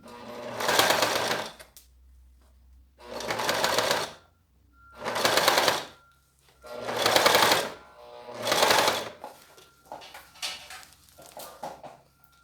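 A domestic sewing machine sews clear vinyl plastic in five loud bursts of rapid stitching separated by short pauses, followed by a few weaker, choppier runs at the end.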